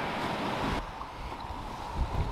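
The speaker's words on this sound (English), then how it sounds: "Oh, the sound of that water, so nice" Rushing water at Niagara makes a steady broadband roar, with wind buffeting the microphone and a dull thump near the end. Nobody speaks.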